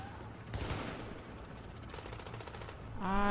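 Gunfire in the third-person shooter Tom Clancy's The Division sounds in quiet bursts, with a short rattle early and a longer rapid automatic volley later, followed by a tonal mechanical whine near the end.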